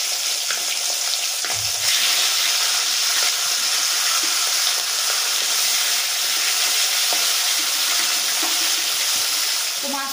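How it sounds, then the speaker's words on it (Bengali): Tangra fish fry in hot oil in a wok, a continuous loud crackling sizzle with occasional pops and spatters throughout. "এবার গরম তেলের মধ্যে আমি মাছগুলো একে একে ভেজে নেব"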